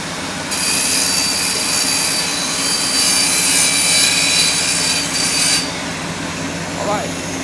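A direct energy generator engine drones loudly and steadily for several seconds, with a bright high whine that cuts out near the end while a low rumble continues.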